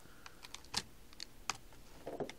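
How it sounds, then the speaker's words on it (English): A replacement keyboard being pressed down into a Toshiba Satellite U840 laptop: a run of sharp, close, irregular clicks and taps as keys and edges snap into place, with a quieter rustle near the end and no talking. "now I'm going to carefully stick the keyboard down"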